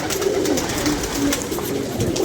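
Pet pigeons coo softly and continuously at close range, their low throaty calls overlapping in a steady murmur with a touch of background noise.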